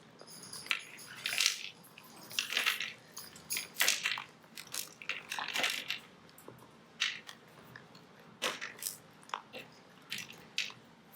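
Potting media rattles and crunches inside a plastic plant pot shaken in short, irregular bursts, close and fairly quiet, with no talking.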